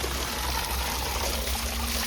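Water runs steadily from a tap into a vessel in a cold outdoor setting. It makes a continuous close trickling rush with no pauses and no voices.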